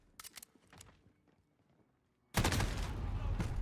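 Pistol shots in a video game, a few sharp cracks early on, then a quiet stretch, then a sudden dense burst of loud gunfire and noise.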